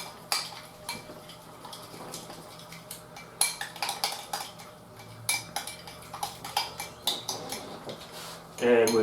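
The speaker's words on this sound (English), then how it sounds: "I'm going to mix some pesto sauce with some mascarpone" A utensil stirs pesto sauce into mascarpone in a bowl, with repeated scraping and clinking strokes in an uneven rhythm, close and clear, and a brief voice near the end.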